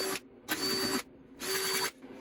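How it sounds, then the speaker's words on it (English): A power drill bores holes for taillights on a 1994 Jeep YJ, two firm whining bursts of about half a second each, separated by short pauses, close and loud. "So we have to drill holes."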